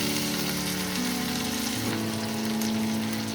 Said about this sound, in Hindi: हम ग्रीन चिली ऐड करेंगे। तो इसे भी अब फ्राई करना है।